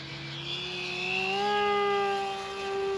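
A small E-Flite Extra 300 electric RC aerobatic plane passes by, its motor whine rising and falling in pitch as it sweeps close and loud, steady and continuous with no talking.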